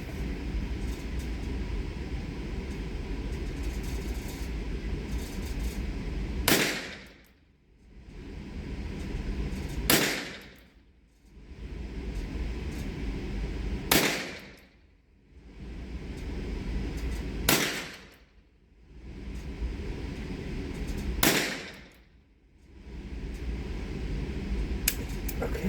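Five sharp, loud shots from a Smith and Wesson .32 revolver, spaced about three to four seconds apart, each a crisp crack against steady outdoor background noise, with no talking.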